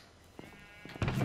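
Sheep bleating in a Minecraft-style video game farm, a couple of short bleats rising toward the end, fairly close and loud against quiet game ambience.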